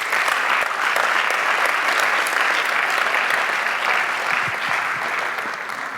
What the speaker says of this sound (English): will you please put a round of applause for the wonderful Charlotte McLean-Lepo